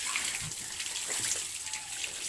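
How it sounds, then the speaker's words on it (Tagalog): Pigs drinking water on a countryside farm during bath time, heard as a steady splashing, running-water wash with soft slurps and small knocks close by, fairly continuous throughout. "Ang galing niya uminom ng tubig, oh"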